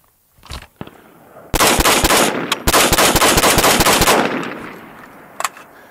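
Rapid strings of loud, close rifle shots from a VKTR Mark 1 Mod 1 patrol rifle with a Radical Defense bolt carrier group, a few single shots first, then two sustained bursts of fast fire and one last shot.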